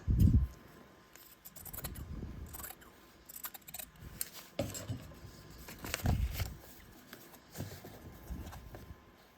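Scissors cutting away extra yellow fabric during foundation paper piecing, a series of close, soft snips and rustles spaced irregularly, with paper and fabric handling in between.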